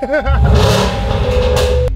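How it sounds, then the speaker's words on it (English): A Range Rover SVR with a 5-litre V8 and a loud exhaust revs hard and fills the cabin with a close, steady roar for about two seconds. Voices are heard over the start. "That's how loud the exhaust is."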